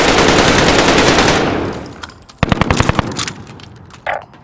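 Loud, continuous automatic gunfire in a shooter video game fades out. It gives way to a short run of separate shots with metallic clinks, then one last muffled burst.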